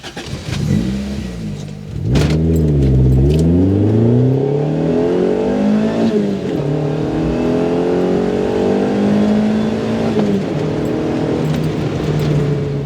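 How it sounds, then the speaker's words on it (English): A 1986 Honda Civic Si F1 Edition accelerates through the gears, its engine note rising and falling with each shift, loud and close with a steady mid-pitched drone between pulls. "let's take the Civic for a drive and see how it goes"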